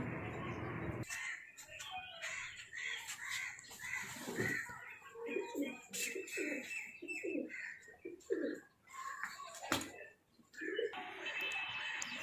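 Pigeons coo repeatedly in a rooftop cage area at a home, soft throaty coos in a loose rhythm, fairly close, with other bird chirps and some background noise mixed in.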